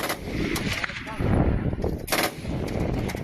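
Rapid bursts of heavy-weapon gunfire crackle through military training for priests, sharp repeated reports over a noisy outdoor background, fairly loud and close.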